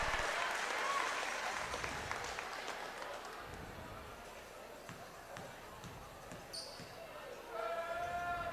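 Crowd in a gym at a high school basketball semifinal reacting to a made free throw, a swell of cheering and clapping that fades and rises again with faint ambient noise.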